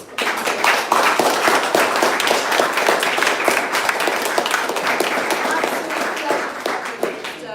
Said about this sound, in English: huge round of applause for